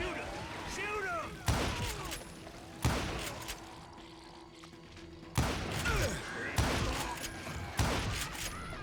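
Western gunfights in Call of Juarez: Gunslinger bring sharp gunshots that crack out at irregular intervals, about six loud reports over a rumbling game backdrop with voices shouting in between.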